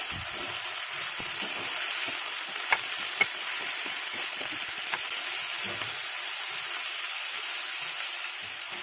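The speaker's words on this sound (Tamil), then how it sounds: "இப்போ இதை நல்லா கிளறி விட்டுக்கலாம்" Turkey berries stirred in a frying pan for chutney, giving a steady high sizzle with occasional soft scrapes and clicks from the spoon throughout, close and continuous with no talk.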